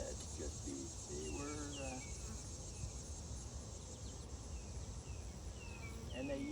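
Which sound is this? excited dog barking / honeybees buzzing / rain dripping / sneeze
honeybees buzzing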